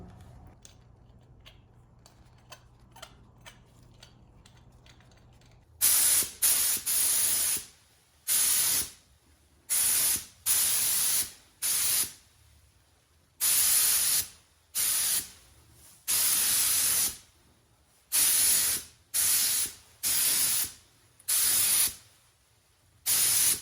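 Bursts of spray paint hiss from an aerosol can while refinishing an IH tractor wheel weight, about a dozen loud sharp-edged sprays of a second or so each, separated by short pauses, following a quiet stretch of faint clicks and rattling.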